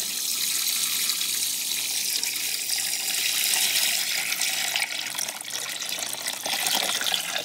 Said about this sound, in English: I'm going to pour this. So I got a gallon of water.